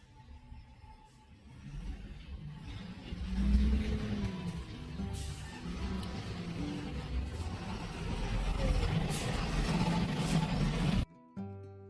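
Shared cab engine droning and straining on a bumpy, offbeat mountain road to Dzongu in Sikkim, a low rumbling hum that swells and rises with acceleration, heard close from inside the vehicle, cutting off abruptly near the end.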